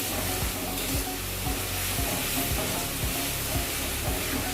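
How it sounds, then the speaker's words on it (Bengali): Spice masala sizzles steadily in a pan for a Gandhoraj chicken dish, with a spoon scraping through it in regular strokes roughly every half second, close and continuous, with no voices. "এবার মশলাটা একটু কষে নেব।"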